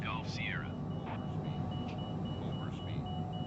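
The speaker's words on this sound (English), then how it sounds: "Let's just shut this alarm up." A warbling cockpit alarm beeps in Microsoft Flight Simulator 2020, repeating electronic tones over a constant loud engine and airflow drone.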